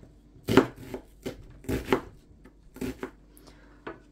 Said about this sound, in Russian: Итак, измельчаем крупную луковицу,